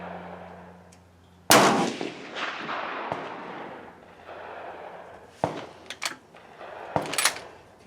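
A rifle fires a hand-loaded GP-11 bullet at an outdoor range: one sharp, loud, close shot rings out and decays in a long echo, followed by a few light clanks and knocks.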